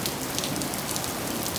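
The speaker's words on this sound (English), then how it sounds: "Okay, it is raining out there pretty hard." Dense, steady hiss of heavy rain pattering on a house in Southern California, constant and loud with no breaks.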